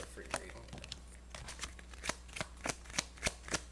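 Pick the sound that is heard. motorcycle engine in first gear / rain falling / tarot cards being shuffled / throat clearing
tarot cards being shuffled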